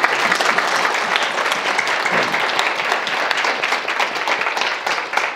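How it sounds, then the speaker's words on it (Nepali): A church congregation at a school gathering bursts into steady, dense applause, many hands clapping continuously at a moderate level for several seconds with no pause. "एकचोटि प्रभुलाई जोडदार ताली बजाउनु"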